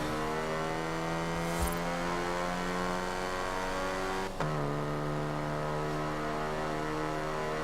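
A Morris Minor engine in the racing game Forza Horizon 4 drones at a steady, loud pitch, dips abruptly midway as if shifting gear, then carries on at a lower, constant hum.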